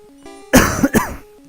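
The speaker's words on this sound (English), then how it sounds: "That was me coughing." A man coughs twice close to the microphone, two harsh throaty bursts in quick succession, over a quiet background with faint game music.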